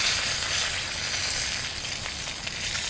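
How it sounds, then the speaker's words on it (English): Ribeye caps sear on a cast iron grill with a steady, bright sizzle and crackle of fat, a close, continuous hiss with no voices. "we'll let it sear for a little bit longer. I'm gonna do a little bit more searing."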